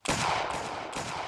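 Musket volley from the 33rd Regiment of Foot in an Anglo-Zulu war game, a loud close burst of overlapping shots that rolls into a long crackling roar, with a second wave of fire near the end.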